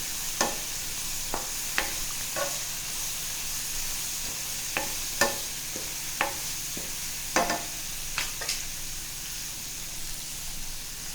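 Spoon scraping and stirring Kashmiri red chili powder, turmeric and coriander-cumin powder in a pan, with irregular clinks and scrapes over a steady soft sizzle, close and fairly quiet, no talking.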